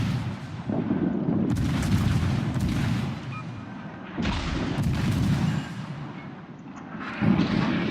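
Torpedo strikes and gunfire on the destroyer Mahan in a World of Warships naval battle, heard as heavy, rumbling booms in several loud bursts that swell and fade, with no talk over them.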